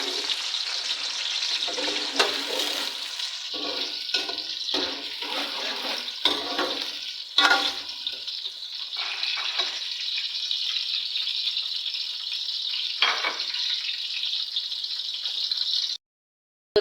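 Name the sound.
onions frying in a cooking pot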